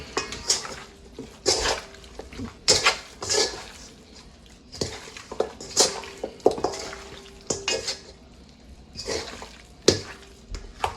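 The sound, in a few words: mixing ingredients in a pot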